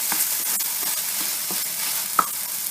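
Spiced rice stuffing for eggplant fries in a pan with a steady close sizzle, punctuated by several spoon scrapes and one sharp clink, no talking.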